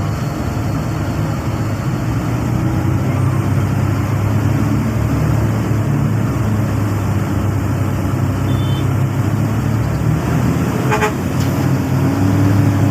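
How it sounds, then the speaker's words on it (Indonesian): Gridlocked downtown street in Medan, Indonesia, at Kampung Lalang, with a steady dense rumble of slow engines and a few car horn toots, one brief sharper honk near the end. "kondisi jalanan di kota Medan, macet total."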